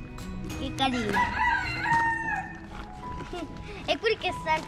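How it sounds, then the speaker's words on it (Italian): A rooster crows loudly nearby while people talk over it, with other farmyard sounds around. "E quelli che sentono il gallo."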